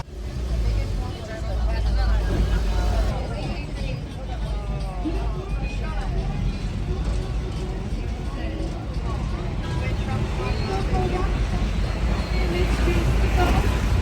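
Group vehicle ride on Grand Turk to a beach excursion, a steady engine and road rumble filling the background while voices chatter continuously over it.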